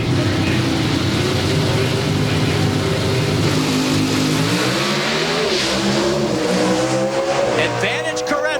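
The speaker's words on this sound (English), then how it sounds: "so when that car launches, hopefully it goes straight down that quarter mile and into the final round" An NHRA Pro Stock drag race car launches down a quarter-mile strip at the U.S. Nationals in Indianapolis, its engine roaring loud and continuous with rising pitch as it accelerates through the gears, and an announcer talking over it.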